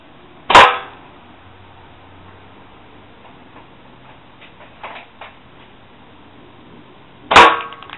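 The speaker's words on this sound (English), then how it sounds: "so I'm just going to shoot at this from farther away." A pellet from a distant shot strikes a piece of metal, giving two sharp, bright metallic ticks several seconds apart, with faint small knocks between them in an otherwise quiet setting.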